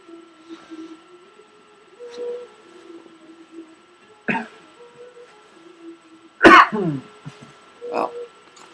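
Coughing and throat clearing set off by burning incense: a few separate bursts, the loudest a hard cough near the end of the run, over a faint steady hum in a quiet room.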